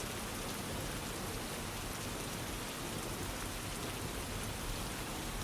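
Steady rainfall hisses evenly and densely without pause, a constant wash of drops at moderate volume with no voices.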